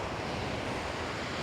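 Waves on a beach in Lefkada, Greece, a dense wash of surf mixed with wind buffeting the microphone, loud and continuous for a moment with no talking.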